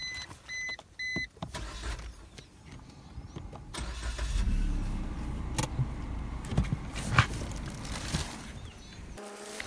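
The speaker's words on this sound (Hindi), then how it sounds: "इसका इंजन स्टार्ट है और बहुत ही कम साउंड है यार" A 2021 Toyota Urban Cruiser petrol car: an electric window whirs in short bursts, then the engine starts and settles into a quiet, low idle, with faint clicks and handling noises nearby.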